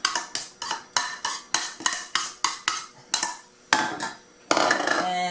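Rhythmic clinking of a utensil against a bowl while chopped carrot is mixed for spring roll filling, about a dozen sharp, close taps coming in a steady beat, then a rougher scraping stir at the end, with no voices.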